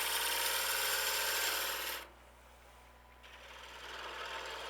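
A wood lathe running while a negative rake scraper takes small finishing cuts on a friction-held piece: steady whirring with a rasping scrape that stops partway, then resumes more softly.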